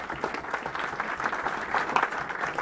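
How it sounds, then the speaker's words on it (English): Audience applause at a book launch for author Paul John Dykes at Celtic Park: steady, dense clapping from a crowd, evenly sustained throughout with no voices over it. "I'd like to say it's a well-deserved applause for the work that Paul's put in."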